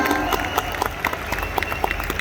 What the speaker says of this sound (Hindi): एक बार जोरदार तालियां सभी युवाओं के लिए, बेहतरीन तालियां